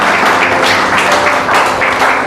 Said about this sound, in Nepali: उहाँलाई हामी ताली बजाएर स्वागत गर्नेछौँ